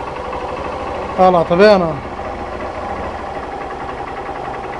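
Honda CG 125 Fan motorcycle engine idling with a steady, even mechanical drone throughout, while someone speaks briefly over it midway.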